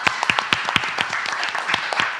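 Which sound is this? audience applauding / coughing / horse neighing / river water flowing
audience applauding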